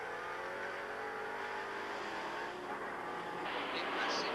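Ford Capri race cars scream around the Trois-Rivières street circuit during a 1984 Trans-Am race, a steady distant engine drone under crowd-like noise, rising slightly toward the end.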